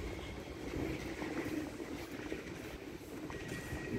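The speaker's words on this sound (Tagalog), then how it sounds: "Yun, ang isang train. Yun yung pabalik naman sa amin." An underground train passes on its line, a steady rumbling roar with faint rhythmic rail clatter and a high whine, heard at moderate distance and unbroken throughout with no talking.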